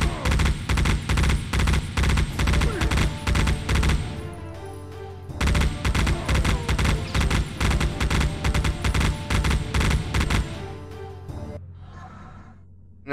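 Heavy gunfire from a big weapon in the video game Geist: sustained rapid bursts of loud, evenly spaced shots in two long strings, the second tapering into a quieter tail.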